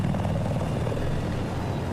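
An attack helicopter in a 32-versus-32 multiplayer video game match flies nearby, giving a steady, loud rotor and engine drone that holds evenly throughout with no talk over it.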